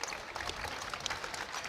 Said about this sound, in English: Avery Woodson gets a warm round of applause as he makes his way to the bench